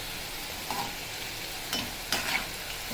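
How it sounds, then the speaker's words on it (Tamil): Potato chips deep-fry in hot oil with a steady, soft sizzle, broken by a few brief louder splashes or stirs, with no talking. "இது நல்லா மொறு மொறுன்னு எண்ணெயில் பொரியணும்"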